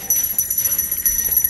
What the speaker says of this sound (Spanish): ¡Campana, papá! ¡Campana! ¡Tóquela!